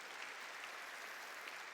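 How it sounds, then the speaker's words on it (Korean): A church congregation applauds during a sermon, a faint, steady patter of many hands heard from a distance with no break. "박수로 하나님께 영광을 돌려가지고"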